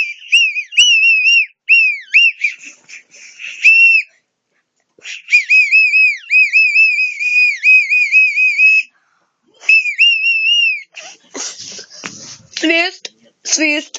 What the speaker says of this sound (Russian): Я свищу, да, через свистолет.